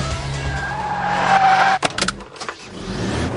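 A Ford Transit van drives through a hairpin on a test lap: a loud, steady engine drone rises and then cuts off abruptly, followed by brief bursts of tire noise before the engine continues.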